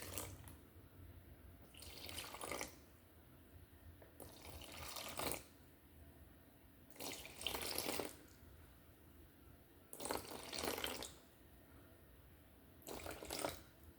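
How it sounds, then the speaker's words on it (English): Water is poured slowly into a sourdough mixing bowl in five separate pours, each a soft rushing splash of a few seconds, with a faint hiss between them and no talking. "you wanna slowly pour in the water"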